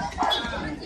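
Dogs barking and yipping somewhere in the background, a brief faint burst mixed under a voice speaking Spanish.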